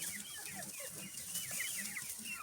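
Young chicks peep in high thin chirps scattered throughout, with soft clucking nearby, over a constant background hiss.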